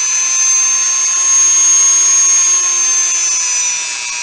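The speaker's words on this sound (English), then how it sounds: "if you have something like a Dremel and you're very careful, you can cut with that too" A Dremel rotary tool cuts through a cardboard model rocket body tube, a loud, close, high-pitched whine that holds steady and dips slightly near the end.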